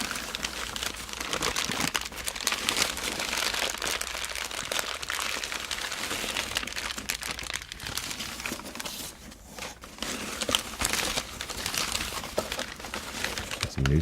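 Boxes and packages being unboxed, with newspaper packing inside, recorded close on condenser mics: continuous dense crinkling, rustling and crackling of paper and plastic, shifting in loudness, with no voice over it.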